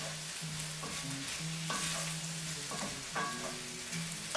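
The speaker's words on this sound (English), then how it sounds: "Just stirring this all together." Vegetables for a garden bowl, seasoned with turmeric, black pepper and salt, sizzling in a pan while being stirred, with a steady fry and repeated scraping strokes close by, no talking.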